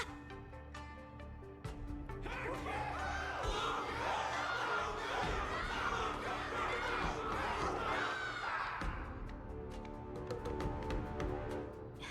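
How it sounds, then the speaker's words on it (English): A large crowd cheers and roars for a fighter at a ring wardance event in the video game Honkai: Star Rail, a sustained loud wave of shouting voices over background music. "Everyone's cheering for you, Luca."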